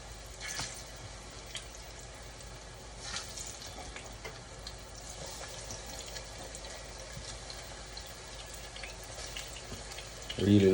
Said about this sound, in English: so the oil is hot, so I'm gonna go ahead and fry my plantain